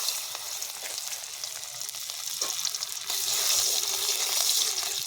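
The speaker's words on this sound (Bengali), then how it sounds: "আমাদের তেল গরম হয়ে গেছে" Chopped ginger and garlic dropped into hot oil for vegetable momos give a loud, hissing sizzle that swells and grows stronger halfway through, close up and without any voices.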